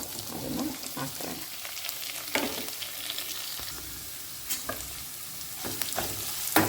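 Onions and curry leaves fry in a hot pan for a bachelor-style tomato curry. A steady sizzle runs throughout, broken now and then by a few scraping stirs of a spoon.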